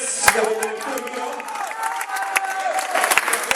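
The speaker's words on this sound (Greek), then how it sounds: "Ένα χειροκρότημα για τους δύο αθλητές για το τελευταίο γύρο." Brief applause and crowd noise for two Muay Thai fighters after the final round, scattered claps mixed with voices and cheering at a moderate level.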